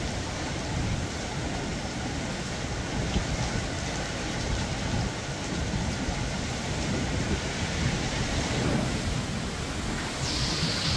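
Heavy typhoon rain pours down in a steady, loud, unbroken roar that holds for the whole stretch, with no clear thunderclap standing out.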